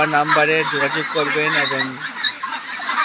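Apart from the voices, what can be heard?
Pekin ducks calling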